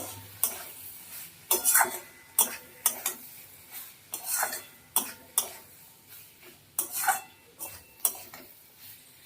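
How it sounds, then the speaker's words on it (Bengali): Pointed gourd curry stirred in a pan after sugar is added, with a spoon scraping and clinking against the metal in a steady series of sharp strokes over a low sizzle, close and fairly quiet. "চিনিটা দিয়ে আবার একটু নাড়াচাড়া করে নেব"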